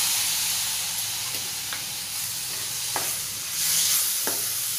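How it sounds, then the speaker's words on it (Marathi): Finely chopped tomato hits a hot pan of okra (bhindi) and fries with a steady, loud hiss and sizzle, broken by a few brief scrapes of a stirring spoon. "आता आपण थोडीशी अशी जागा करूया आणि त्यामध्ये बारीक चिरलेला टोमॅटो घालूया"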